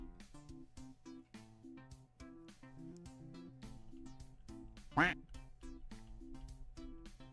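A single loud duck quack alert sound pops out over rhythmic background music with a steady beat.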